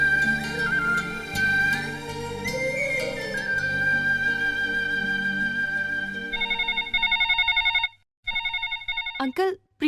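A telephone rings repeatedly with a bright electronic tone in a Hindi film scene, loud and close, continuing for several seconds before cutting off into a few brief chirps.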